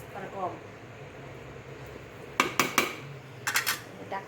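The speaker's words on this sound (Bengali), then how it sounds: "ঢাকনা দিয়ে রাখি" A lid set on a pot of beef curry in a home kitchen gives a quick series of metallic clanks and rattles, then a second short cluster, over a faint background hum.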